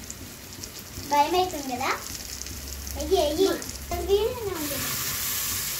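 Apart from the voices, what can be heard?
chicken pieces being added to frying pan, sizzling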